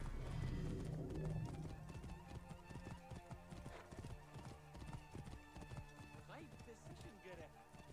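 Horse hooves clip-clop in a quick, uneven gallop rhythm in the video game Assassin's Creed Origins, close and clear, with a brief whinny and someone talking over the trotting.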